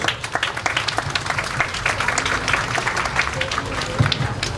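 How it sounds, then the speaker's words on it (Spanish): Steady, dense audience applause fills a civic ceremony in Zacatecoluca, El Salvador, in 2017 as the Proesa president is welcomed, with many hands clapping continuously and evenly throughout. "Recibámoslo con fuertes aplausos."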